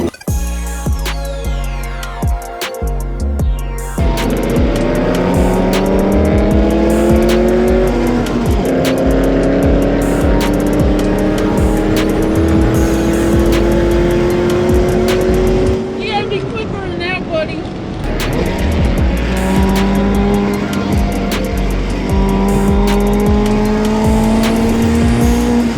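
Mazda Miata ND race car at speed on the Road Atlanta circuit, engine loud and close as its pitch climbs through the gears, with a brief lift and shift in the middle, sharing the track with an Audi RS5 and Camaros.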